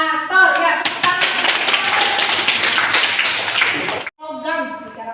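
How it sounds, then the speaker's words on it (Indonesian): Students in a class on fermenters clap their hands together in a lively, close round of rapid claps for about three seconds, with a teacher speaking just before and right after. "Ya, tepuk tangan."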